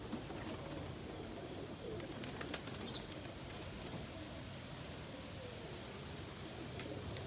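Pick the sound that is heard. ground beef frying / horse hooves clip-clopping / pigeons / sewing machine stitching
pigeons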